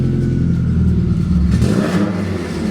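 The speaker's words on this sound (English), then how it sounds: "you can definitely hear the difference between this exhaust." A 2008 Subaru STI engine revs with its exhaust valve open, a loud, close rumbling drone that swells and falls across the clip, with no talking.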